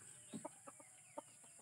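Bisaya native chickens cluck softly nearby, a handful of short, separate clucks scattered over a quiet background hiss.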